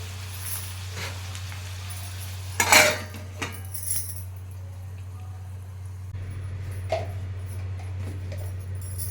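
A lid is set onto a pot of fish curry, giving a sharp metallic clatter followed by a couple of lighter clinks, close by, over a low steady hum, with no talking.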